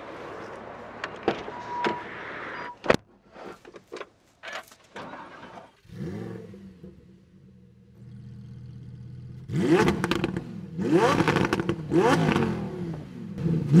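A Lamborghini Huracan STO with a naturally aspirated 5.2-litre V10 starts up after some clicks and whirs, settles into a low idle, then blips through several sharp, loud revs that rise and fall in quick succession, heard close with no talk.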